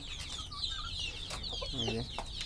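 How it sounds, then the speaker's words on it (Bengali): Free-range desi chickens cluck repeatedly in short, close bursts while being fed moringa and other leaves, the calls overlapping in a lively, moderate-volume chorus. "দেখতে পাচ্ছেন মুরগিগুলো খাওয়ার জন্য কেমন করছে"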